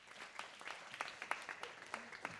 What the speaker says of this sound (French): Je vous demande de vous applaudir très très fort.